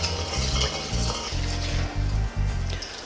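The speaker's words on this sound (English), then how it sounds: "Coconut oil in the pan, about 2 tablespoons, not too much. What we're going to do is we're going to drop in all of our whole spices" Whole spices sizzle and crackle in about two tablespoons of coconut oil in a pan over above-medium heat, with a steady loud frying hiss broken by a few stirring scrapes and light utensil clinks.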